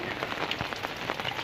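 Outdoor rain falls as a dense, steady patter of drops on a surface. The sound is moderately loud and continuous throughout, and no voices are heard.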